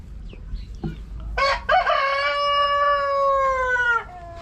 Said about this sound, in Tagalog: mga maliliit na manok